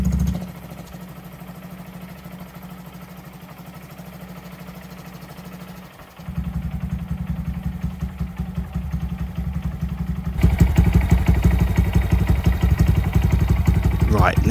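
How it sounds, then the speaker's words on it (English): A Honda Monkey motorcycle fitted with a Scorpion exhaust idles steadily nearby with a low, even burble. The engine note briefly dips, then settles back, and grows rougher and louder toward the end. "Now start the bike and let idle for 10 minutes so the ECU can learn the new values."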